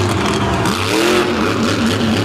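A monster truck engine revs hard on a beach at a monster truck show, loud and close with a rising and falling roar.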